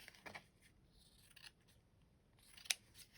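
Scissors snip through lace being trimmed to wrap a grungy haunted-mansion style journal cover, a few faint, quiet cuts with one sharper snip near the end.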